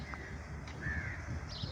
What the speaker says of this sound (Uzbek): Bu yerda ham qarg'alar juda ko'p.